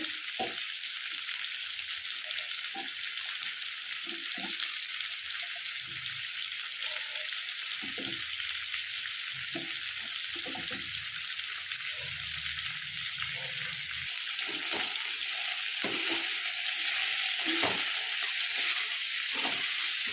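Broad beans sizzle steadily in a hot pan as they are stirred, with a continuous frying hiss and scattered soft clinks of the spoon against the pan, close and with no talking.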